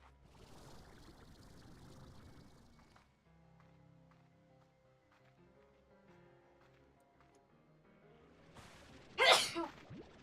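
A single sharp, loud sneeze bursts out near the end after quiet soft game music plays in the background.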